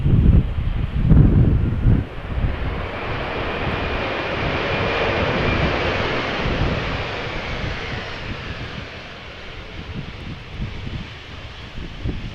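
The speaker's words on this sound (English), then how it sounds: "An Airbus A320 that is 12 years old." Airbus A320 airliner arriving at Amsterdam Schiphol Airport in crosswind, a broad roaring jet rumble that swells early and then slowly fades while wind buffets the microphone.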